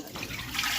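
Water is poured into an oiled clay cooking pot, a brief, close rushing gush that swells slightly toward the end.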